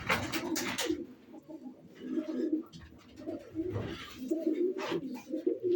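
Domestic pigeons in a loft, including a smoky blue male and a white female, coo in low repeated rolling phrases at close range alongside scattered wing flutters and shuffling; no one speaks.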